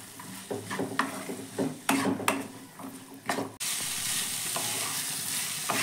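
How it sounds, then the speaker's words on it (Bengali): Winter vegetables frying with salt, turmeric and chili powder are stirred in a pan: scraping, clattering spoon strokes over a sizzle, then a steady loud frying hiss once the stirring stops. "এবার সব কিছু ভালো করে মিশিয়ে নেব"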